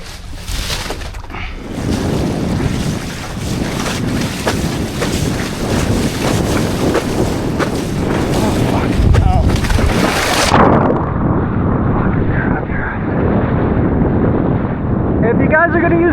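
Wind buffets the microphone in a steady, loud roar out on open water while parawing a 4.2m Flow D-Wing in light 9-10 knot wind with sailboats nearby; the rush drops to a softer, muffled hiss partway through.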